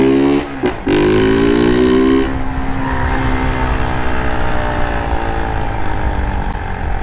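A 160 cc motorcycle with no retrovisor and a start key, engine blipped loudly in two quick revs near the start, then holding a sustained high rev before settling into a rough, steady idle.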